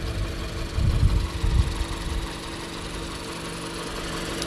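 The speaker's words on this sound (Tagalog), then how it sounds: "So yun yung makina niya ngayon." A non-turbo 2021 Toyota RAV4 XLE Premium engine idles with its hood open: a steady low hum. A few heavier low-end pulses come through in the first two seconds, then it settles into an even, quiet drone.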